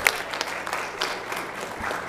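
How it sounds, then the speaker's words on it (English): A council meeting audience gives a brief round of applause, moderately quiet scattered clapping from a small crowd in a meeting room. "So let's give him a round of applause."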